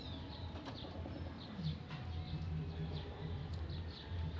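Flocks of racing pigeons coming home to the loft in the morning, with soft cooing and light wing flaps over steady outdoor background noise. The sounds are fairly faint and spread through the scene.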